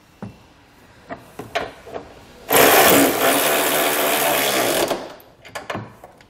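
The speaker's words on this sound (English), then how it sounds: "now we can come in with the socket and snug it all down" Power socket driver snugging down trailer hitch bolts on a 2020 Mazda CX-5, a loud continuous whirring burst of about two seconds, with scattered metallic clicks and taps before and after it.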